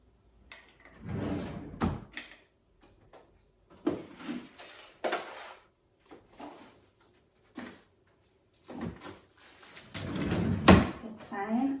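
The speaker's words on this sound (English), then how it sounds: "So I just need to look into the drawers." Drawers in a living room slide open and shut repeatedly, a series of close wooden scrapes and knocks at irregular intervals with quiet gaps between them, while a person talks during the rummaging.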